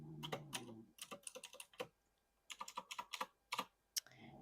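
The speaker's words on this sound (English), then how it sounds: "I have a very clicky keyboard here in the office, if you can hear it." Bursts of sharp, clicky computer keyboard typing in an office, close up and fairly loud, in quick irregular runs separated by brief pauses.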